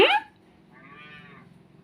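A goat gives a single soft, drawn-out bleat from a short distance after a brief clatter.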